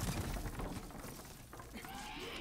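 Clay pots smash in the video game Demon's Souls, heard as a steady dense crackle of breaking pottery through a tinny controller speaker, continuous and fairly loud across the moment.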